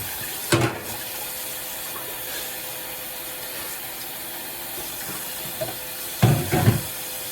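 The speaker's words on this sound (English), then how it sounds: "So right now I am just putting the cold water on the handle so I can pick it up." Steady running cold tap water hisses over a hot pan handle throughout, with a couple of louder splashy clunks near the start and toward the end.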